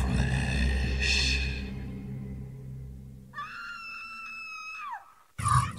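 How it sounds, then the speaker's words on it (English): A scream from the Ghosthunter video game rings out alone at mid distance, a long wavering high cry that bends downward and cuts off abruptly, followed by a brief burst of noise. "It's the exact same scream."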